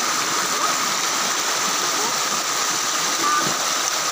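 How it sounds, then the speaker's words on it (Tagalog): Continuous broadband rush of flowing water, like a stream tumbling over rocks, steady and fairly loud throughout. "Oh. Lagaslas ng tubig."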